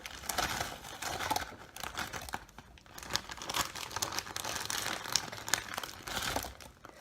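Plastic bag of frozen bananas crinkling and rustling continuously while being handled, close and fairly quiet, with irregular crackly bursts and brief lulls.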